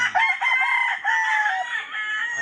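A young rooster among chicks crows close and loud, a strained, wavering crow lasting about two seconds with a few breaks, alone without any talk.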